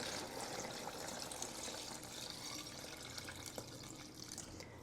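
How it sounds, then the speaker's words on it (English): Beef broth pours steadily into a Ninja PossibleCooker Pro that holds short ribs and bay leaves, making a soft, continuous liquid rush at low volume with no voices. "5 cups of beef broth and pour it in."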